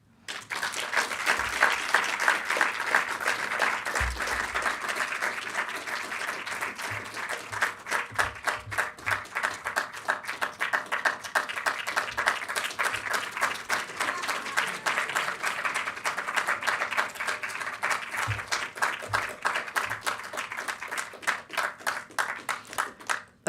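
Sustained applause from a summit audience at a green games awards event, dense steady clapping that carries on for over twenty seconds and gradually thins into more distinct individual claps, with faint voices mixed in.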